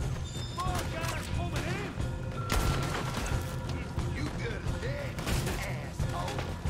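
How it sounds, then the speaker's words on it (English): Gunfire in the video game Red Dead Redemption 2, a scatter of sharp shots and cracks, some distant and some closer, spread through the stretch over layered game ambience, with someone talking over part of it. "Someone's shooting from over that direction."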